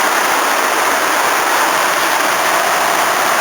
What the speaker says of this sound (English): it just has to start raining on me